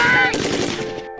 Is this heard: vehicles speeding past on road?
no